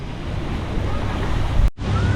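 Ocean surf washing and breaking along a beach at Vung Tau, Vietnam, a steady broadband roar with wind buffeting the microphone and a brief dropout near the end.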